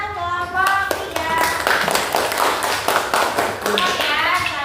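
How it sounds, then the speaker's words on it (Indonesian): Classmates in an eighth-grade physics lesson clap for group 3 after their presentation on inclined planes, a scattered round of hand claps close by, with a teacher's voice speaking over the start. "tepuk tangan untuk kelompok 3"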